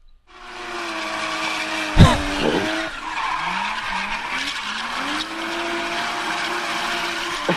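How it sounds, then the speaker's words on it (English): A car sound effect of erratic driving: a sustained engine drone with rising and falling tonal whines, a sharp skidding thump near the start, and tire squeal sweeping through the rest. "some sound effects for like a, like a car just driving, and then driving like erratically"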